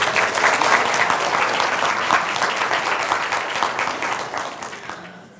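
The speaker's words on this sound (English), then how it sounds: "So another big round of applause," An audience claps through a sustained round of applause after a talk on fair healthcare algorithms, dense and even at first, then thinning and fading out near the end.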